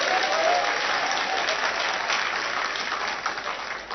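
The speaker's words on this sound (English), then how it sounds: "Let's acknowledge him with a round of applause." Audience applause at a law alumni association launch and public lecture, a thick, continuous crowd clapping that stays loud and steady from start to finish without any speech.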